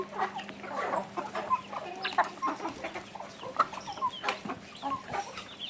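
Chickens cluck repeatedly at close range in irregular bursts, with several birds overlapping against a quiet farmyard background.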